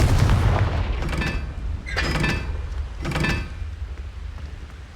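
Confringo spell cast in Hogwarts Legacy, a series of three sharp whooshing blasts about a second apart, each a bright burst with a rumbling tail, set over a low background hum.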